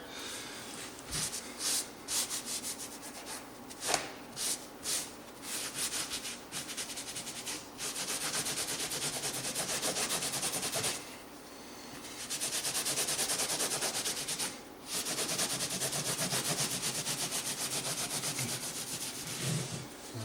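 A damp rag wiped back and forth over fresh drywall joint compound during a wall repair, giving a close, steady rubbing and swishing with short pauses between strokes and no speech.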